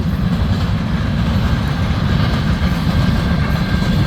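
CN freight train M343 cars roll past at Ladysmith, Wisconsin, a loud, close, continuous rumble with rhythmic clatter of wheels on rail joints.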